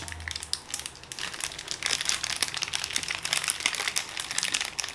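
Wrapper of a Curly Top snack, a Filipino school treat, crinkled and torn open up close: continuous dense plastic crackling and rustling, loud and near, with no talk.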